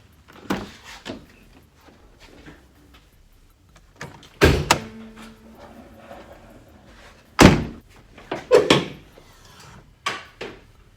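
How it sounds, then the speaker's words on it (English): A car hood being popped open and handled: scattered thunks and clunks of latches and metal panels, with two sharp loud bangs and several softer knocks spread over quiet gaps, heard close with no talking. "let me pop the hood real quick"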